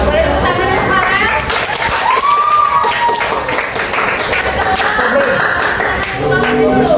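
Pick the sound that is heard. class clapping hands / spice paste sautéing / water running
class clapping hands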